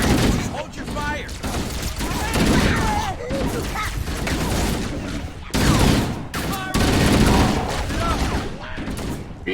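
Dense, continuous gunfire from Halo: Combat Evolved, with rapid automatic bursts and heavy shots layered over a busy battle mix. Volume stays loud and steady across the stretch, and talk is mixed in with the shooting.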